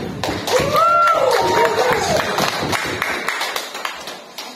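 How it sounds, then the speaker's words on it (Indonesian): A church congregation claps together, sharp hand claps rising over music and a sustained tone, with voices mixed in beneath; the clapping is strongest early and thins toward the end. "Tepuk tangannya dong bagi Tuhan."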